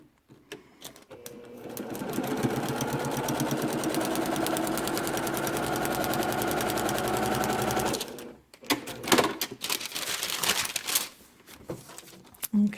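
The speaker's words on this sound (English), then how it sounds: "now I'm going to sew this line right down the middle" A sewing machine sews a seam down the middle of a quilt block, running as a steady, close, rapid rhythmic chatter for about six seconds, then stopping, followed by handling clicks and rustling.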